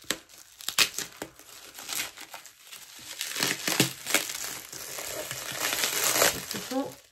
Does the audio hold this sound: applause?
no